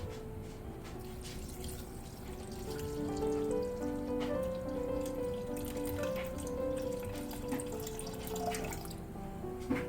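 Water pours steadily into a container for feeding a sourdough starter, a continuous splashing stream with a gently rising tone as it fills.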